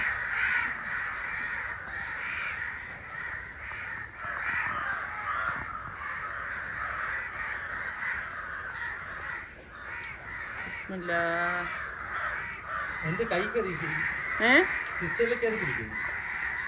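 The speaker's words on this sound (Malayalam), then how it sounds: "കാക്കകളുണ്ടാ?" Several crows caw in bursts of harsh, repeated calls toward the end, close and clear above a steady rain-like background hiss, with people talking faintly in between.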